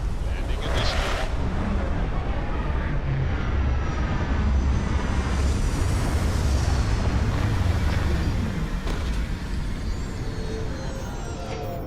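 A spaceship landing in the video game Starfield on an extreme-environment planet: a loud, continuous engine roar with broadband rumble that persists steadily throughout, with some speech in the game mixed in.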